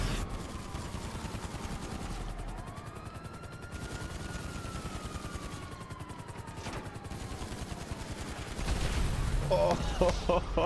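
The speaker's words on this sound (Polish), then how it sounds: "To mnie też strzela." Sustained gunfire in GTA V Online, dense fusillade-like bursts running throughout with a helicopter-like whine, growing louder near the end; someone talks over it.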